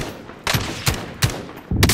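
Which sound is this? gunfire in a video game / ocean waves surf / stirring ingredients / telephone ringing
gunfire in a video game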